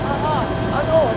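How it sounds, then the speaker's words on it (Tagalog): Cabin noise inside the presidential helicopter in flight over Metro Manila, a loud steady rotor and engine roar with a low hum, as a person talks over it. "Habang nasa ere naman kami ng Pangulo sakay ng presidential chopper"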